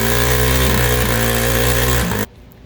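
A small 49.5cc Chinese Honda-knockoff mini bike engine runs steadily at a loud, close, even drone with strong low harmonics, then cuts off abruptly near the end, leaving quiet.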